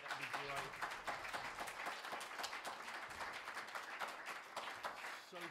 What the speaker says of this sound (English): If you can give me a clap, not a shout or a cheer, but a nice clap offering tonight, that would be great.